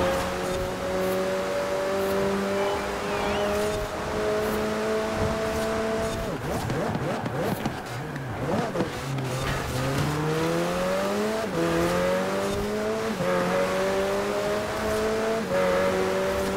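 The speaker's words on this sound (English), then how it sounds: "this McLaren is extremely fast accelerating" A McLaren race car in Forza Horizon 4 on a custom track, its engine droning steadily at high revs, then dropping through gear changes, with tire squeal, before climbing again in rising pitch sweeps as it accelerates hard.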